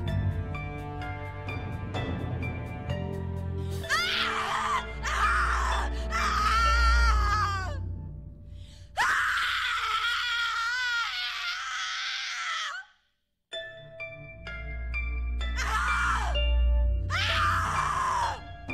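Anguished screaming and wailing from a character in the horror game The Cat Lady, several long, strained cries rising and breaking over a low droning score, with a short silent gap between outbursts.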